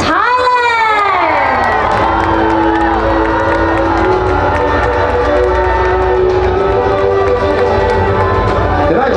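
A large audience at the Miss Earth 2023 pageant roars and cheers after a top 8 announcement, the loud crowd noise sustained throughout with screams rising above it.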